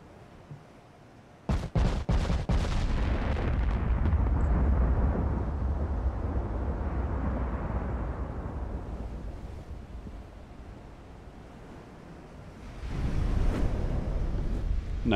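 A German H-class battleship's guns fire armor-piercing shells in Ultimate Admiral Dreadnoughts, a sudden cluster of sharp blasts giving way to a long, heavy rumbling roar that slowly fades, then swells again near the end.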